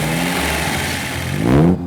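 A light MG car with a rebuilt, balanced 1500cc twin-carburetor XP-EG engine, running loud and close at a steady drone, then briefly revving higher before the sound cuts off.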